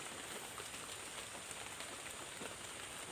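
Steady rain falls across an oil palm seedling field on a cold, overcast day, a continuous close hiss of drops on leaves and soil with no voices.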